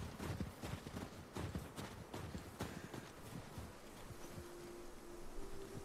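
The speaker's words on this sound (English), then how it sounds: "Hey, the horses do follow, bro." Horses' hooves clip-clop in The Last of Us Part 2, a close, quiet rhythmic series of soft hoof strikes that thins out toward the end as wind noise takes over.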